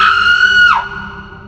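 A patient in a hospital lets out one loud, drawn-out scream that holds steady, then sharply falls away and fades, in a horror-story setting.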